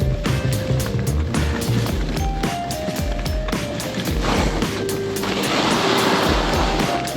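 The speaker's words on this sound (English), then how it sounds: "Although you can hear the skis, it's nice." Skis hiss and whoosh steadily through fresh powder snow on a run in near-zero visibility, a continuous broad rushing that swells louder toward the end.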